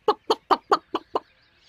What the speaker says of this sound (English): Then the children go to see the hens and ducks.